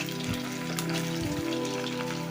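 Chicken 65 pieces frying in hot oil over a high flame, a steady crackling sizzle with occasional soft stirring scrapes, fairly quiet and close.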